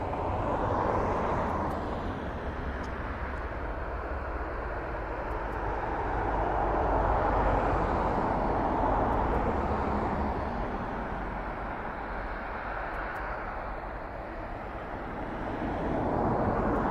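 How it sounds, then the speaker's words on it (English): A passenger jet passing near an airport, a broad steady roar that swells and fades gently over several seconds, heard alone at moderate distance. "Because, as I said, that's a passenger jet."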